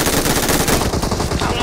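Rapid automatic gunfire in a video game, with loud bursts of shots firing in a steady rhythm close by and no talking.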